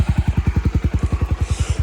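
A Suzuki Skywave 250 Type S scooter's single-cylinder engine idles through its exhaust, a close, steady, deep bassy thumping pulse at a regular rhythm, clean and not very loud.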